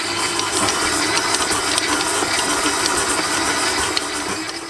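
Stand mixer kneading butter and dough for Breton shortbread, a steady mechanical whir with faint hiss and clatter, running evenly and moderately close with no talk.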